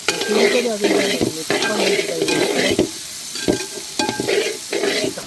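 Steady sizzling of chopped shallots frying in a pan, with repeated scraping stirs and occasional utensil clinks, close and loud with no talk.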